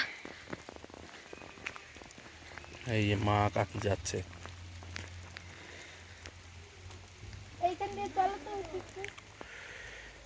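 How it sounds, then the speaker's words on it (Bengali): Rain falling in a pine forest on a hill near Kurseong, Darjeeling, pattering steadily and softly with scattered drops nearby while people talk over it. "বৃষ্টি বৃষ্টি, বৃষ্টি পড়ছে, মাথাটা পুরো ভিজে যাচ্ছে"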